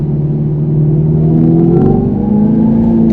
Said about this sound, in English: You can hear the Fratzonic chambered exhaust.